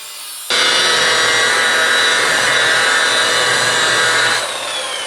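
Steady broadband whir of a finishing pad wet sanding car paint, starting abruptly after a brief quieter moment and running loud and continuous, easing slightly near the end.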